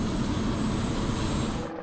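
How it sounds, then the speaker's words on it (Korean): A helicopter is heard at an airport as a loud, steady whirring engine roar that fills the whole stretch and cuts off abruptly at the end, with no speech. "공항에 와서 헬리콥터 들리나 모르겠네"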